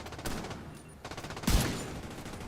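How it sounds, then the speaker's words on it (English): Rapid gunfire crackles in a violent video game, a couple of bursts of overlapping shots with the loudest near the middle, heard moderately at a distance under a faint background. "Yeah, it's kind of I hear gunshots."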